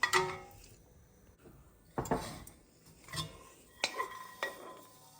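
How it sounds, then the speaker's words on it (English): Peanuts are crushed in a pestle and mortar: a handful of sharp, separate knocks and grinding clinks spaced about a second apart, close and fairly quiet against a near-silent background. "I'm going to crush them slightly in a pestle and mortar."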